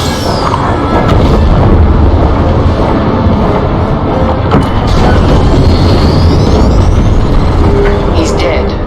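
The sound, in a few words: frigate exploding, from video game Star Wars Squadrons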